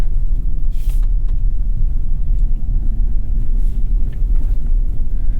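A 2021 Chevy Colorado ZR2 truck crawling over a rough two-track through the woods, a loud, steady low rumble of engine and tires with some wind buffeting, and no sharp clunks.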